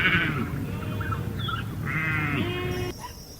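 A sheep bleating in a few drawn-out wavering calls over a steady background of rumbling farm noise, fairly close, with no talk.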